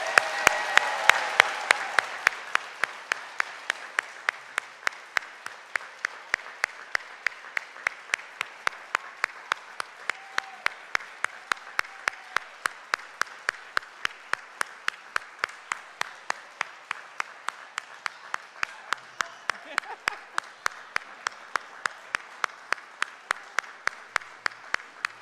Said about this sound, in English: I want to ask for one more round of applause for our inductees and their families.